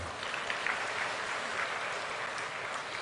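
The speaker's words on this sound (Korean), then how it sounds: "잘하라고 박수 한번 해줘요" Applause from a church congregation at a Sunday service, many hands clapping in an even, continuous patter that fills the room for a few seconds with no voices on top.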